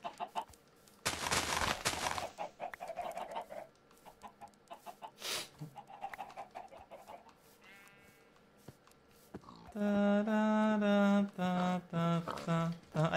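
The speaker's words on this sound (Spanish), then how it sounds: "Hay más pollos todavía. Vengan, pollitos, vengan." Blocky Minecraft chickens clucking in bursts, with several short, bright calls toward the end standing out loudly over other in-game noises and sharp effects earlier on.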